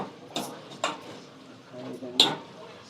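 A spoon scraping and knocking in a pot while a mother stirs a wild tribal leafy-vegetable curry, three or four sharp clinks spaced apart over soft scraping, fairly quiet and close.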